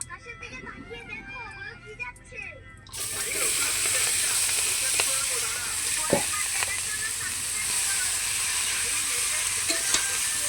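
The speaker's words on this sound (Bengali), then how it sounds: "কাটা বাঁধাকপিগুলো তেলের পর।" Chopped cabbage hits hot oil with cumin in a pan for a shrimp and cabbage dish, and a loud, steady sizzle starts abruptly and keeps going, with occasional scrapes of stirring; a voice speaks before and over it.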